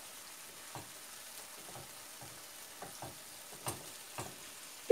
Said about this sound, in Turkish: Toz biberin böyle güzelce kavrulup lezzetini vermesi için.